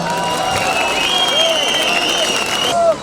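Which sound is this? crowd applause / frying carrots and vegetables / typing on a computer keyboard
crowd applause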